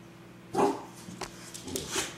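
A dog barks a few sharp times at moderate distance, one louder bark first and then lighter yips, outdoors while a toddler is being walked along.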